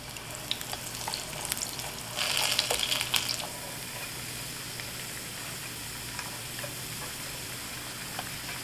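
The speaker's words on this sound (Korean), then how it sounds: "이렇게 튀기면서 중간중간 색깔 봐주시고" Potato pieces deep-frying in a shallow pan of oil that is sometimes tilted to submerge them, giving a steady close crackling sizzle with a brief louder, bubbling burst early on.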